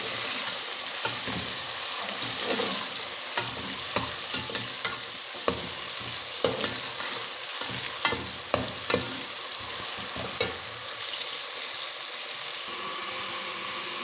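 Tomatoes fry and sizzle in hot oil for dal, with a steady sizzle and repeated scraping taps of a spoon stirring the pan.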